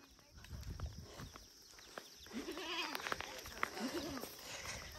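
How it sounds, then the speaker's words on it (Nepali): Goats being led out toward a forest slope to graze: a couple of wavering bleats rise over rustling footsteps and movement, with faint human voices nearby. "बाख्रा चराउन उतातिर लिएर जाँदैछौँ"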